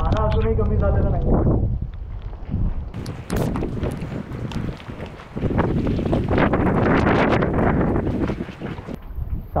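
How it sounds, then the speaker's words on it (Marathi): Strong wind buffets the microphone at Ghangad fort, a loud roaring rumble that rises and falls in gusts. A person speaks at the start. "वारा अजूनही कमी झालेला नाही."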